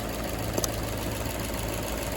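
Infiniti/Nissan engine idling with a cylinder misfire, a steady low rumble with an uneven pulsing beat and a brief knock partway through, heard up close with no talk.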